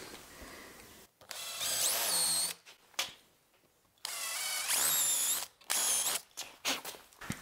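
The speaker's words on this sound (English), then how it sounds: "We'll put them two remaining two screws in, making sure it's nice and level and flat against the front of the frame here." A power drill drives screws into a window casement stay mounted on a frame, with two long whirring runs broken by short stops and bursts. The pitch rises and falls as each screw bites, close and loud, with no talk over it.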